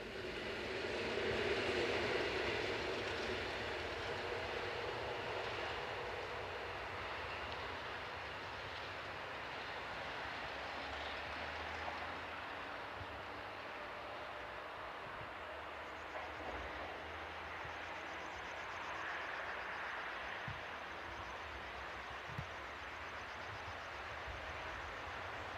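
A Polish electric multiple unit built in 1982 runs past on a line in Poland, a steady, distant rumble of wheels and motors that fades slowly, with faint clicks of rail joints and no talk.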